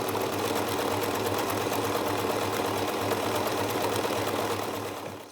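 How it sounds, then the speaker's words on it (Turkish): A household sewing machine stitches embroidery on fabric held in a hoop, its needle running in a fast, steady mechanical whir for the whole stretch, close and loud, easing slightly at the very end. "Normal makinenin kendi iğnesiyle düzgün bir şekilde çevirerek kasnak yardımıyla hareket ettirerek çizgilerin üzerinden gitmeye çalışıyor annem"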